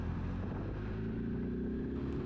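Kawasaki Z900 motorcycle accelerating from low revs, a steady, rumbling engine drone mixed with wind noise, fairly faint, heard on its own without talk.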